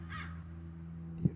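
Crows cawing outdoors near a fence, with a single loud, close caw standing out near the end over a steady low hum and faint background calls.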